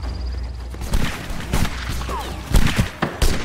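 Musket volleys in the Napoleonic Wars video game, a series of sharp cracks and booms in quick succession, some clustered like ragged fusillades, fairly close and loud.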